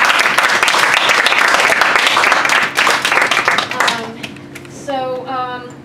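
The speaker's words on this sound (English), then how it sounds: "everybody, we give a round of applause again" Audience at a salon lounge show gives a dense round of clapping that thins out after about four seconds, followed by a voice speaking.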